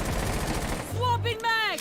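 Rapid bursts of gunfire from the video game Rainbow Six Siege crackle loudly over a short stretch, with a person's voice speaking over the shots.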